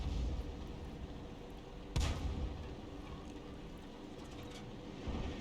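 A tank shell fires and lands in the tank game, one sharp boom over a steady low engine rumble, with a fainter thump later in the distance.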